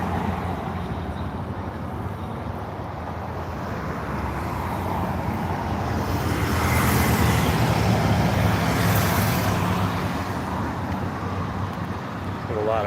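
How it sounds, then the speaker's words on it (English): Street traffic at an outdoor protest: a continuous roar of passing cars and heavier vehicles that swells in the middle, with people talking faintly beneath it. "There's a lot of traffic noise."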